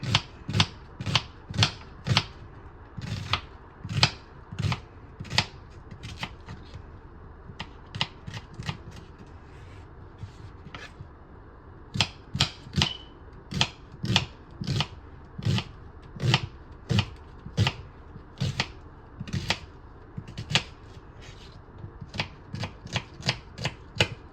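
A knife slices onions on a cutting board in steady, evenly spaced sharp chops, close and crisp, continuing in runs with short pauses between them.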